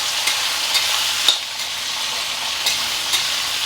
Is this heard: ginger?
yes